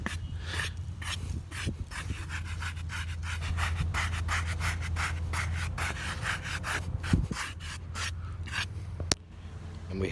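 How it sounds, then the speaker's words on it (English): Someone scrubs an old gravestone from the 1700s–1800s in a cemetery with steady, close, rhythmic rasping strokes. A sharp knock sounds near the end. "Let's scrub it a little bit."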